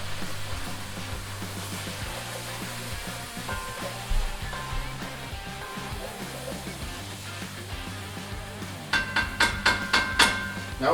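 Seafood jambalaya ingredients with shrimp cooking down in a pot, a low continuous sizzle with a burst of sharp clatters near the end.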